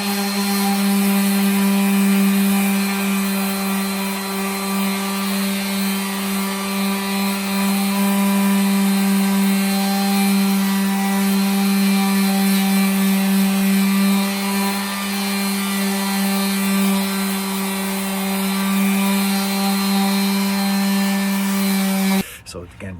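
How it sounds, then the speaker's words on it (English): An orbital sander works on a rusted Ford Fusion rocker panel during body repair, giving a loud, steady, unbroken whirring hum that holds for the whole stretch before cutting off at the very end. "we've got our lovely orbital sander here"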